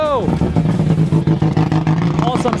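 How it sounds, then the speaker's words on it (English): A rally car's engine revs near and loud at an autocross event, with rising and falling tones over a steady low drone, under people talking. "That's a rally car."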